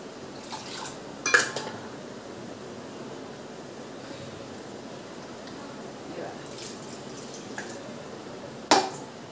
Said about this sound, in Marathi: मिक्सरचं भांडं धुवून टाकते